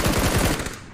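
Rapid automatic gunfire in the PUBG video game, a loud close burst of quick repeated shots lasting about a second.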